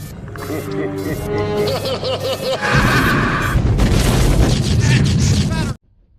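Loud, sustained blast and rumble of a nuclear explosion from a wristwatch device in the 1987 film Predator, with a harmonic, music-like stretch at the start giving way to a dense roaring burst that cuts off abruptly near the end.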